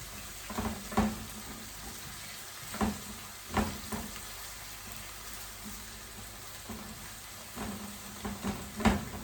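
Chopped tomato and pepper sizzle steadily in hot oil in a pan for Jamaican ackee and saltfish, with periodic scraping and stirring clinks against the pan and no talking.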